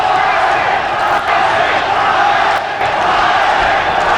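A boxing crowd at the Jorge Paez versus Tracy Spann fight roars and chants for Paez, a loud, steady mass of voices filling the arena throughout.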